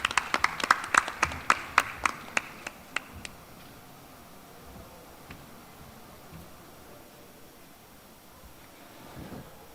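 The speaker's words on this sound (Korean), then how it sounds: "여러분 박수 보내주시기 바랍니다." A short burst of sharp, distinct handclaps from a sparse audience at a startup showcase, roughly a dozen crisp claps over three seconds, then it falls away to quiet room tone.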